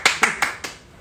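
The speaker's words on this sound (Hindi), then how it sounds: "एक बार उनके लिए जोरदार तालियां।" Clapping for a guest during an Instagram live stream: four sharp, close hand claps in quick even succession, then quiet.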